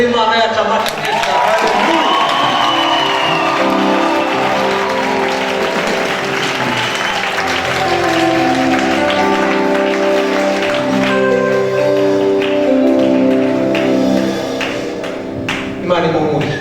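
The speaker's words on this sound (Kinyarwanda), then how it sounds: "mureke duhe Imana yacu amashyi meza." A church congregation applauds in sustained, dense clapping for most of the stretch, mixed with loud voices and some cheering.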